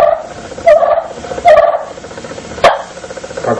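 Short clucks scraped from a Morgan's friction wood turkey call, the striker kept on the board while a cupped hand gathers the sound, giving a few separate sharp notes over a quiet room.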